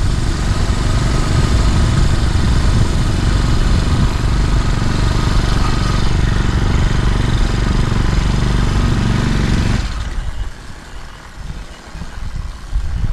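A small four-stroke motorized fat bike engine runs loud and close on a beach with a steady buzzing drone for about ten seconds, then cuts off, leaving quieter rumbling.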